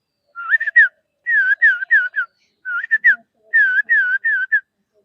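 A child whistles in imitation of the call of a rainy-season insect, producing four quick bursts of short, rising-and-falling chirpy whistles with brief pauses between them, clear and close with no other sound.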